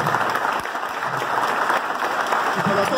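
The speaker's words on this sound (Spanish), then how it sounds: "para él pido un fuerte aplauso" Applause for a speaker at a Frente de Todos political meeting in General Rodríguez, a dense, continuous clapping from a crowd filling the room, loud and even throughout.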